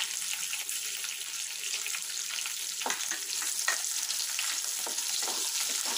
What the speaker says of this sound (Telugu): చూడండి, ఇవన్నీ కొంచెం ఫ్రై అయ్యాయి.